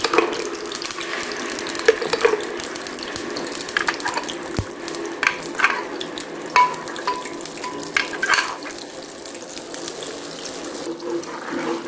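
Clove paste being fried in hot oil for a persimmon halwa, giving a steady soft sizzle with scattered stirring scrapes and clinks of a spoon against the pan, close and moderately loud.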